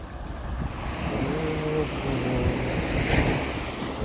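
Calm sea washing gently onto the shore, a steady soft surf wash with light wind noise on the microphone, continuous and moderately loud with no one talking.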